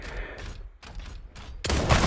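Shotgun blasts from the Super Mecha Champions video game come as a few short bursts with brief gaps between them, and the last burst is the loudest and sits close up.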